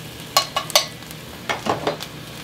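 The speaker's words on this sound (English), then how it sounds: "I just want to get that sizzling a little bit." Chopped garlic and ginger frying in oil in a pan, giving a few short crackling bursts of sizzle with quiet gaps between, close and moderately loud.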